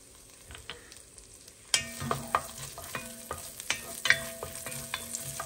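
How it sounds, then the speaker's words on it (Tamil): Small pieces of chopped garlic drop into melted butter and fry with a soft, steady sizzle, punctuated by sharp scraping and clinking stirring strokes, close and fairly quiet, with no voices. "இங்க வந்து பாத்தீங்கன்னா பூண்டு வந்து சின்ன சின்னதாக நறுக்கி வச்சிருக்கேன், அதை கொஞ்சம் ஆட் பண்ணிக்கலாம்"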